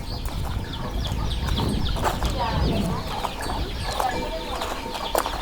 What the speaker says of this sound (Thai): นี่คุณยายเก็บไก่อยู่ที่จะนวดใช่ปะ